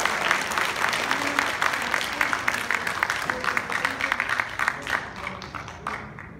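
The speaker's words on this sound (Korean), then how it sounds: "마지막으로 큰 박수 좀 부탁드리겠습니다" Steady audience applause from a crowd after a presentation, dense and sustained, tapering slightly toward the end.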